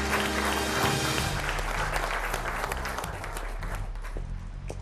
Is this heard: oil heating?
no